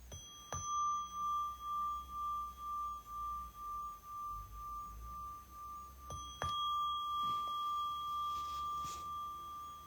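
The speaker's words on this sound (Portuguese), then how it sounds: "Escutando agora o som do sino." A bell rings repeatedly in a steady rhythm, each clear tone ringing out and decaying, followed by a couple of sharper strikes with lingering resonance.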